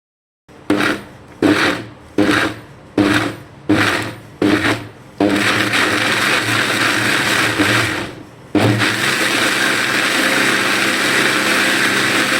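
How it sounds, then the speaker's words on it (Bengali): A kitchen blender whirs through beetroot and fruit for a drink, first in six short pulsed bursts, then a longer continuous run that briefly drops before resuming loud and steady. "এগুলোকে ব্লেন্ড করার সময় আমরা এখানে বাকি যেই ফ্রুটসগুলো ছিল সেগুলো আমরা এখানে অ্যাড করে এটাকে খুব ভালোভাবে আমরা ব্লেন্ড করে নিব"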